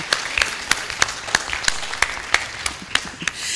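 Scattered, sparse claps from an audience at a humanitarian response plan launch in Nigeria, a dozen or so sharp separate hits spread unevenly over a few seconds against a quiet room, with no talking.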